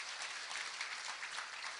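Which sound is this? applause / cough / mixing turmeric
applause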